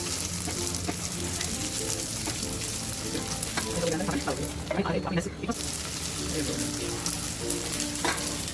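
Sabudana vada batter fries in the wells of an appe pan, a dense steady sizzle and crackle close by, with faint voices and kitchen clatter underneath.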